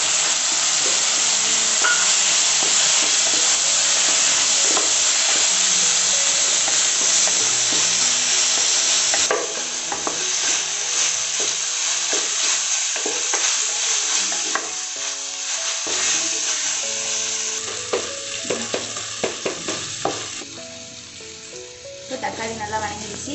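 Loud, continuous sizzling of tomatoes and onions frying in a pan for a bitter gourd stir-fry, with scraping spoon stirs breaking through, the hiss easing somewhat toward the end; a voice speaks faintly underneath.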